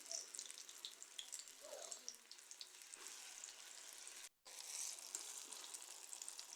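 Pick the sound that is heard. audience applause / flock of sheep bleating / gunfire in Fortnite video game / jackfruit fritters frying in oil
jackfruit fritters frying in oil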